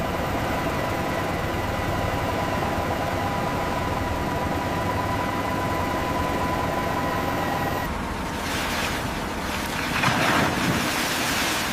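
Continuous heavy rush of seawater pouring off a raised aircraft carrier wreck at sea, mixed with wind and surf noise and a steady mechanical hum, swelling louder near the end.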